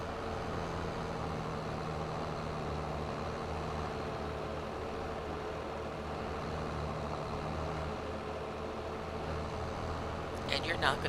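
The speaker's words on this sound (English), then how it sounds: "Get back just a little bit so you guys aren't deafened by the sound of the tractor." Tractor engine running in Farming Simulator 22, a steady low idling drone heard from a little distance, continuous and fairly quiet, with a brief clatter near the end.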